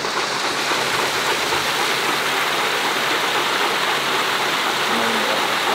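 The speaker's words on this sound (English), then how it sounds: "They can get a waterfall in the back." A waterfall sends a dense, even rush of falling water that fills the whole stretch at close range, with no voices.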